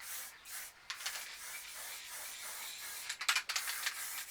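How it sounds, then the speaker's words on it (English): Black spray paint hisses onto a recycled canvas in uneven bursts, a steady airy rush that swells and breaks off near the end, close and moderately loud with no voices. "with the black, we'll just start spraying it all black"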